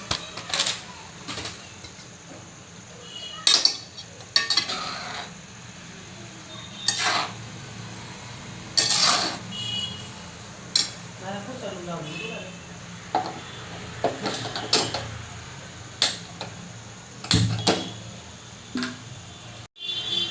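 A spoon clinks and scrapes against a pan as jaggery powder is stirred into hot ghee for ladoos, in irregular sharp metallic knocks with quiet stretches between them and a brief voice partway through.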